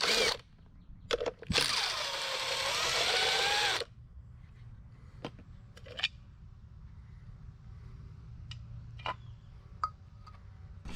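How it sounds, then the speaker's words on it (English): A tool removes the three bolts from a Sta-Rite / Century pool pump motor cover: a loud whirring burst of about two seconds after short clicks, then scattered light metallic taps and clicks in a quiet room. "Using a 1/4 socket, remove the 3 bolts and remove the cover."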